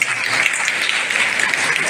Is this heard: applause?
yes